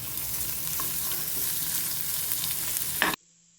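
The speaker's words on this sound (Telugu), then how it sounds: "ఇప్పుడు ఆనియన్ వేస్తున్నానండి" Onion frying in a pan with garlic and chana dal: a steady, loud, close hiss of sizzling with faint stirring scrapes, cutting off abruptly near the end.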